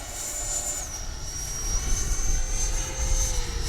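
An FMS 80mm F-86 RC jet performing a touch and go, its steady electric ducted-fan whine holding strong and close throughout, with a high tone that dips slightly early on.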